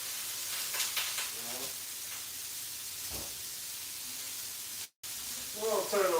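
Sausage frying in a pan gives a steady broadband sizzle throughout, with a brief dropout near the five-second mark; voices talk intermittently over the frying.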